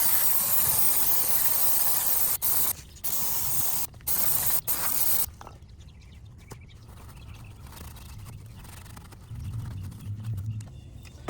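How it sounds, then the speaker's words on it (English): Brake cleaner sprayed onto the front brakes of a 2017 Tesla Model S 75D, heard as several loud, close hissing blasts with short pauses, followed by quieter shop sounds. "There's a lot of brake dust all around this area, so you're going to spray this off with brake clean."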